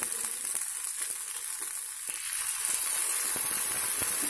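Gunta ponganalu batter with carrot sizzles in a pan, a steady bright crackling hiss that grows slightly fuller partway through, close and alone without talking.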